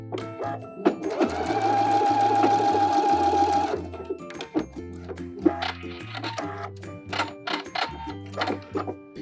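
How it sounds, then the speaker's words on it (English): A sewing machine back-stitches a seam to hold the facing inside a high-waisted pencil skirt, running in one long steady whir before breaking into a series of short, close stop-start bursts. "now what we're gonna do is just back stitch and sew this together right here"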